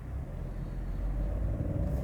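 A Peugeot 208 with the 1.0 turbo engine and CVT accelerates in Sport mode, its deep, steady engine rumble building close by with no talking.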